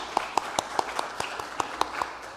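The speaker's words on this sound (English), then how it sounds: "let's give a round of applause to the teachers that are at home standing up." Congregation at a church service applauding, a faint smattering of scattered individual claps at a distance rather than a full ovation.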